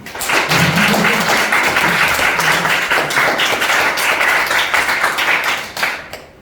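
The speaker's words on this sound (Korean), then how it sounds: "박수 쳐야지 이럴 때는" An audience breaks into loud, sustained clapping, many hands beating densely and close for several seconds before tapering off near the end, with no voices over it.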